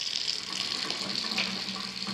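Water gushes fast from a tap into a sink in a downstairs half bath powder room, a steady close rushing stream lasting the whole moment with no talk.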